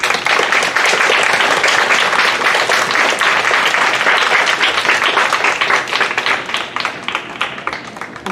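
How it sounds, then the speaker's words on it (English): Dense applause from an audience at an elementary school Veterans Day assembly, loud and steady clapping that fills the room before tapering off toward the end. "Let's give them a round of applause,"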